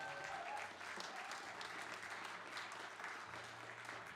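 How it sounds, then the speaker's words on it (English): Concert audience applauds in a steady, dense wash of clapping lasting about four seconds. A low hum runs underneath and no one speaks, with the whole scene heard quietly. "give yourselves a round of applause."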